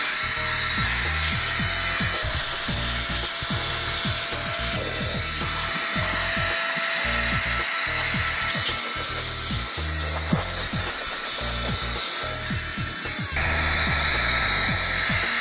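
A battery-powered electric air duster runs continuously while blasting dust out of a car interior and seat crevices, a loud sustained whir with gritty rubbing and clattering textures and a brief sharp knock near the end.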